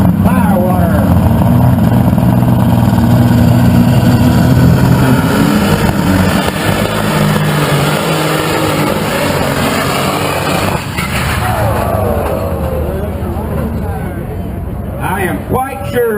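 A pulling tractor roars loudly and continuously at a Jefferson City tractor pull, its engine growling and surging with crowd noise, while an announcer talks over it throughout.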